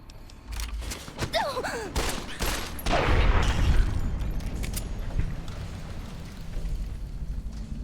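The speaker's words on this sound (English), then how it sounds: "That's gunfire." Gunfire in Fallout: New Vegas, a burst of several quick shots early on followed by a rumbling exchange of fire that trails off into a steady background of distant battle noise.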